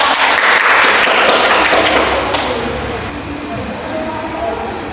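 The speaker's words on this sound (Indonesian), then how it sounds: "tepuk tangan untuk Eva" A primary-school class bursts into applause for a student, a burst of loud clapping at the start that gradually thins and fades over a few seconds.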